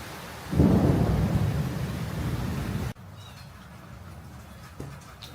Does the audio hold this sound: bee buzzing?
no